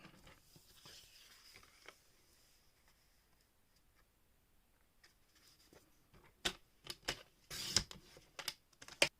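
A paper trimmer slicing black cardstock to size for a paper lantern, heard as a short run of sharp, close clicks and cuts near the end, with a quiet stretch before it.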